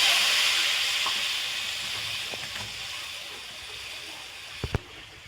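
Hot water poured into frying spice paste with Kashmiri chili powder for a brinjal ilish curry gives a steady loud hiss and sizzle. It fades gradually, with a couple of small pops near the end.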